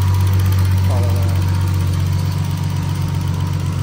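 A turbocharged engine swapped into a BMW E36 runs steadily at idle, a loud, continuous low drone with a faint higher whine on top, close up throughout.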